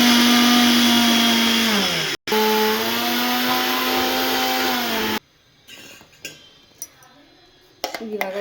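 A mixer grinder whirs loudly and steadily for about five seconds as it blends green chilies, garlic and ginger into a paste, its pitch dropping briefly before it cuts out, then soft kitchen clatter follows.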